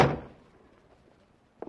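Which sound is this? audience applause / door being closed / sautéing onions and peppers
door being closed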